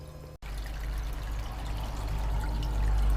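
Water pours from a small pump rated around 7.5 gallons a minute, a steady close splashing rush that starts abruptly after a brief gap and grows slightly louder, with no talking.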